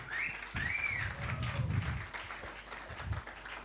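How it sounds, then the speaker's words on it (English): An audience at a tech day event in a banquet hall applauds the event team, giving moderate, steady clapping with some faint voices mixed in. "So we want to really have a big round of applause for them."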